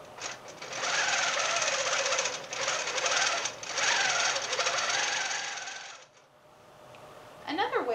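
A computerised longarm quilting machine stitches through a quilt with a fast, steady, loud mechanical chatter lasting about six seconds, then stops and leaves quiet handling noise and a brief click at the end.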